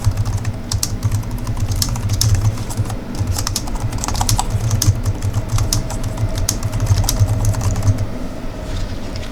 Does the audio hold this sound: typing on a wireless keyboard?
yes